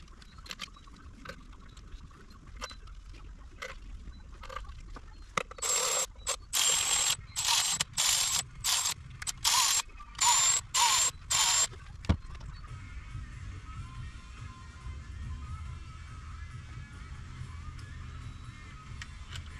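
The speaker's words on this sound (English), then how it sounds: "And again, there's a torque sequence. So we'll torque these." A run of rapid clicking bursts, about nine short pulses in quick succession, sounds close as bolts on an automatic transmission valve body are worked down, with a quiet workshop hum before and after.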